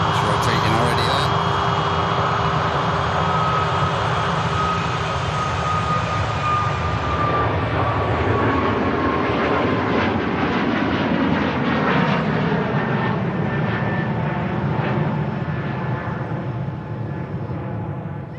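A Ryanair jet rolls down the runway and rotates at Manchester Airport, a loud sustained engine roar with whining tones that slowly shift in pitch, with a voice talking over it.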